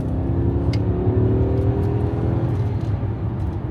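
Corvette Z06 engine pulling hard as the car accelerates up a freeway on-ramp, a steady loud drone heard from inside the cabin for several seconds with no talk.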